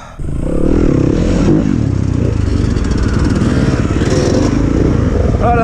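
A dirt bike engine labors at high altitude, feeling underpowered, running loud and close in a steady drone with rough low-end rumble and slight revving throughout.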